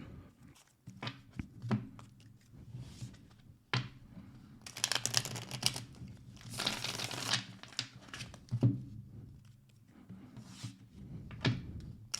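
Tarot cards being shuffled by hand, bursts of rapid riffling and flapping cards interspersed with soft taps and handling noises, close and fairly quiet with no talking.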